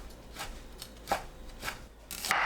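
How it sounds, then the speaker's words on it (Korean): A knife julienning chestnuts on a cutting board: a few soft, scattered cutting strokes, quiet and close, with no talk. "밤을 채 썰어주세요"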